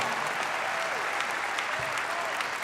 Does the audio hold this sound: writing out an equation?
no